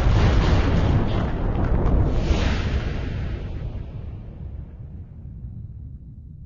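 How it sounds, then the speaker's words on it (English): A huge, rumbling supernova explosion sound effect roars loudly at first, then slowly fades into a low, decaying rumble. "It crashes inwards and explodes."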